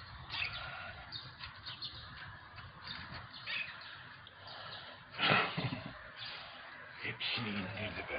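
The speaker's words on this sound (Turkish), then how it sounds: "kargaların geldiğini gördü" Crows cawing in a short scattered burst, a couple of loud harsh calls rising above a busy background, with people talking throughout.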